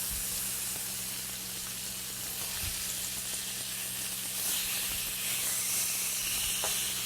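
Rubbed Alaskan salmon fillets with a sweet, smoky sauce sizzle steadily in a hot pan, a continuous soft hiss and crackle, with a few faint clicks and no talking.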